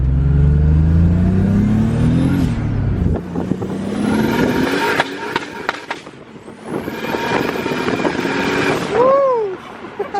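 A turbocharged M50-engined BMW E30 accelerates hard, its loud rising engine note climbing through the gears with a turbo whistle, then hitting the limiter and backing off, while people react inside the car.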